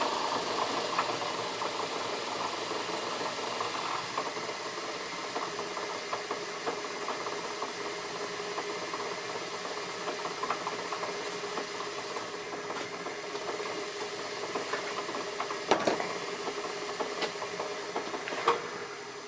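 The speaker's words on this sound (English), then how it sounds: "I've got a lot more control over the lathe now" A lathe converted to run on a three-phase motor from a single-phase domestic supply hums steadily with a faint mechanical rattle and a few soft clicks, low and continuous, with no talking.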